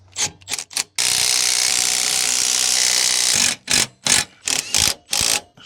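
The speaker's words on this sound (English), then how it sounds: "Let's tighten U-bolts." A wrench or power tool tightens U-bolts on a camper axle, with a few short bursts, then a long steady mechanical run of about three seconds, followed by several more short close bursts.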